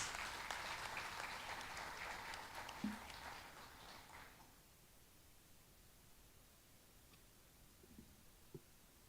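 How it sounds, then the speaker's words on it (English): Audience applause at a night consecration festival for a Hindu murti, a moderate crowd clapping for roughly four seconds before fading out into quiet room noise with a few faint clicks. "So let's give Sadhvi Anandamaiyee Giri a lusty, lusty round of applause, the kind that she likes."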